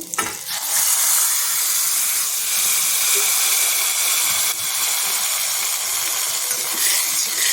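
Cooked totapuri mango goes into roasted spices in a hot pan, setting off a loud, steady, close sizzle and hiss that carries on evenly with no voices.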